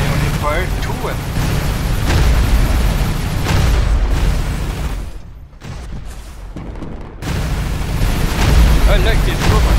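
Loud, booming weapon fire and explosions from robots battling in the War Robots mobile game, in continuous heavy barrages that briefly drop away before resuming, with a voice talking at times.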